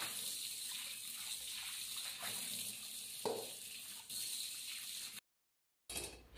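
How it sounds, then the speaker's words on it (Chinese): Tap water rushes into and splashes around a new iron wok as it is rinsed clean, a continuous close gush with brief shifts, then a short cutoff before flowing again. "接水把铁锅冲洗干净"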